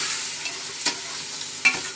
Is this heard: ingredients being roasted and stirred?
yes